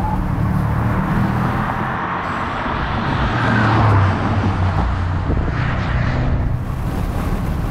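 Bentley GTC convertible sports car accelerating hard, a steady low engine roar with wind rush that swells around the middle, heard from inside without talking.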